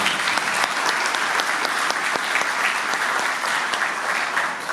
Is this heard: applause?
yes